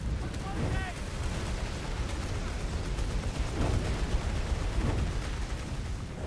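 Artillery barrage in a World War tank strategy game, a dense rumbling stream of overlapping shell impacts and booms that swells in the latter half, heavy and continuous.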